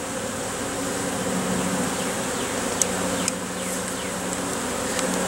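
A dense, steady drone of many honeybees buzzing close by, continuous and agitated, with a few individual bees whizzing past.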